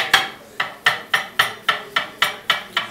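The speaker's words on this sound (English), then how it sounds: "The sounds you hear are the banana being chopped fresh." A knife chops a fresh banana on a board for a crepe, with about ten crisp, evenly spaced chops in quick rhythm, close and clear.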